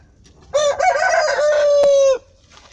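A close, loud rooster crows once in a long drawn-out call, with a brief cluck just before it in a garden henhouse; otherwise quiet.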